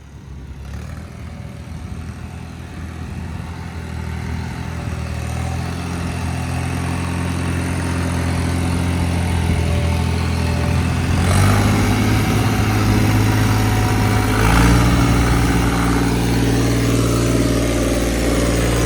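Swaraj 855 tractor engine running with the throttle raised, a loud, steady diesel drone that builds gradually in intensity, with a heavier surge partway through.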